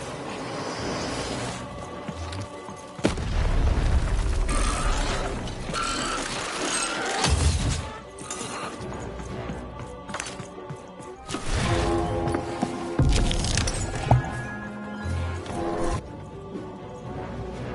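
Cannons firing and a tower being destroyed in the video game Lost in Random, with loud booming impacts, crashing debris and clattering mechanical sounds in repeated bursts over a game soundtrack.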